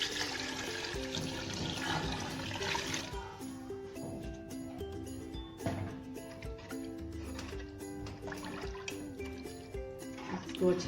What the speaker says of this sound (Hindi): अब इसमें मैंने पानी डाल देना है।